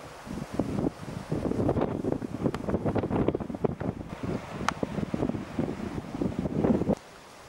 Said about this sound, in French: L'effet du vent dans les herbes.